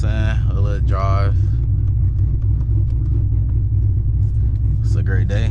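A manual 900 hp Camaro ZL1 rumbles steadily and loudly from inside the cabin while cruising, its deep engine drone continuous beneath someone talking at the start and end.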